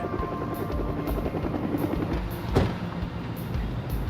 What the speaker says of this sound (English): Their path was lit by an aircraft overhead.